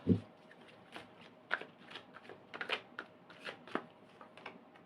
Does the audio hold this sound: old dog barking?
no